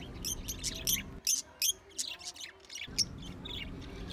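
A caged bird chirps in quick, bright repeated tweets, close and fairly clear over low background hum, with a brief quieter gap midway.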